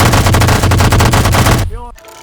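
Rapid, loud automatic gunfire in a modded Fallout 3 game: a dense, evenly spaced stream of close shots that breaks off near the end, followed by a brief voice-like sound.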